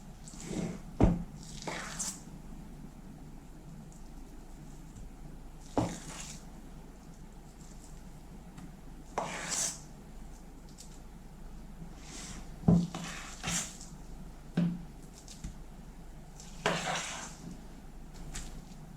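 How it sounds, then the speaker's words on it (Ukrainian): Mashed potato is spread over the bottom of a paper-lined baking dish and lightly pressed down, soft quiet squishes and scrapes of a utensil with occasional clinks against the dish, close and faint. "Розподіляю по дну, злегка притрамбовую."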